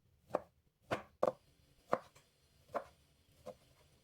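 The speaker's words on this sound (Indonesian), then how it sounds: "Tempenya diiris memanjang terlebih dahulu seperti ini." A knife cuts lengthwise through a block of tempeh on a board, making six distinct, separated thuds at an uneven pace in an otherwise quiet kitchen.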